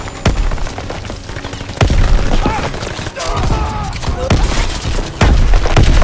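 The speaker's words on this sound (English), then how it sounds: "They fire on the infantry by the tank." Gunfire in Call of Duty WW2 multiplayer during a tank battle, loud nearby shots and booming blasts landing in irregular bursts over a continuous battlefield din, with voices talking underneath.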